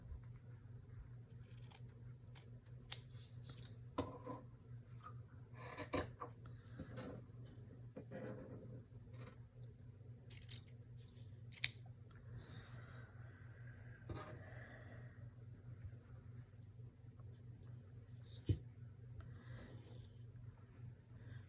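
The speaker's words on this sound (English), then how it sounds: "let's gently trim off this excess" Scissors trim excess fabric from a small hand-stitched landscape piece, a scattered series of quiet snips and clicks over a low steady hum.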